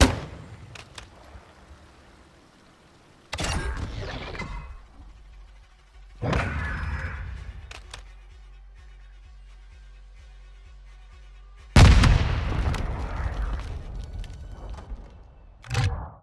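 Grenade launcher shots and blasts from a spawn-tube play on Valderas Museum in Modern Warfare II: three loud, sharp bursts spaced several seconds apart, each with a ringing tail, over quiet game ambience.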